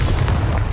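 A Bombarda spell from the game Hogwarts Legacy detonates in one loud, deep, close explosive boom that fills the brief moment.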